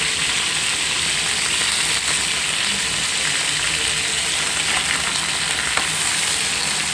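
Raw banana slices fry in a pan with loud, constant, close sizzling and bubbling, occasional light crackles scattered through an even hiss.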